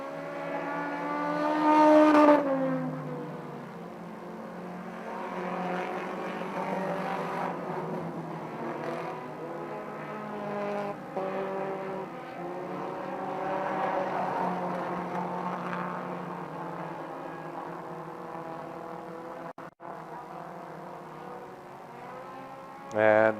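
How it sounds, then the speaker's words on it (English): Race cars circling the Fonda Speedway dirt track, with sustained engine drone that rises and falls as the cars pass, and a louder roar near the start and end. "White flag will wave for the Ingersoll car now"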